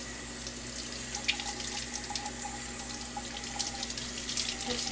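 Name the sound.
tap water running while rinsing a raw chicken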